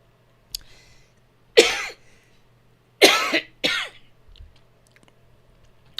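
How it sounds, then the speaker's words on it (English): Harsh throaty coughs from a man during a coding lesson come in three bursts, the last two close together, loud and near against a quiet hum. "Excuse me for the cough today."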